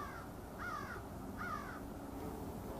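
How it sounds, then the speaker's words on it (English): Crows caw twice in the open outdoors, two clear harsh calls about a second apart, moderately distant over a steady low background hum. "The most interesting thing, of course, is the birds at this time of the day."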